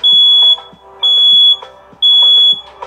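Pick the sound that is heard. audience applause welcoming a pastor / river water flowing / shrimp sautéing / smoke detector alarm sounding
smoke detector alarm sounding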